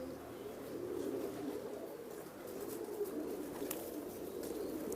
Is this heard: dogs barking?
no